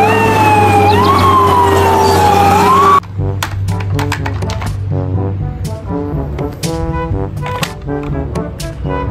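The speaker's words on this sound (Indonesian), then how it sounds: "Ada mobil pemadam kebakaran." A loud toy fire truck siren wails, rising and falling for a few seconds, then cuts off into a tinkly electronic tune with beeps.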